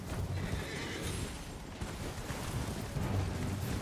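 Horse whinny in the video game Elden Ring, heard amid a dense, busy game soundscape of rumbling noise and scattered impacts, with no voice over it.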